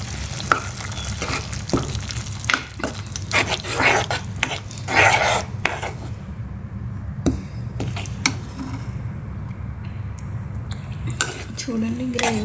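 Tomatoes and ginger garlic paste frying in a pan for a prawn masala curry, a steady sizzle broken by frequent clacks and scrapes of a spoon stirring against the pan.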